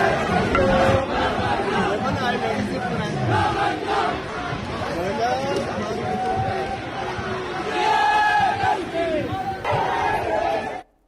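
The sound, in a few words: protest crowd chanting slogans in PoK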